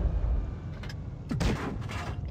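Tank cannon fire in World of Tanks Blitz from an SU-100M1 tank destroyer, a sharp booming shot midway through, followed by a rolling echo and a second distant crack, over steady low engine rumble.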